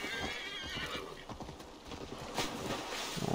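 Horse hooves clip-clopping at a steady trot in Assassin's Creed Valhalla, with a whinny, loud and close over a constant game ambience, no talking.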